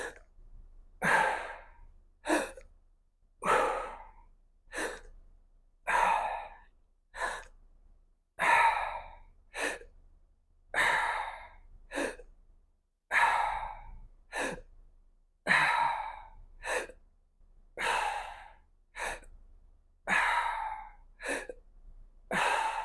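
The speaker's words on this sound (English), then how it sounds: "take a full breath in and breathe out and do gasping breath" Rapid gasping breaths during a throat chakra breathing workout, about sixteen sharp breaths in a steady rhythm, close and clear with quiet pauses between.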